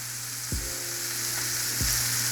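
Butter sizzles steadily in a hot pan while a steak and potatoes are basted, a constant close hiss broken by two short clunks of the pan or utensils.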